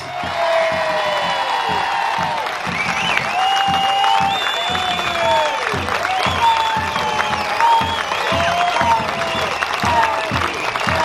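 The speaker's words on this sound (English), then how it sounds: "Give Ricardo a big round of applause" Audience applause for Ricardo Bosi at a Melbourne rally, a loud sustained crowd with clapping, cheers and whoops running throughout, with shouted voices rising over it.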